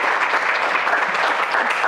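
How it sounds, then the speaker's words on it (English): An aquarium lecture audience applauds the speaker after a talk on rocky intertidal life, with brief, dense, even clapping throughout. "So let's give Dr. Limpet a round of applause"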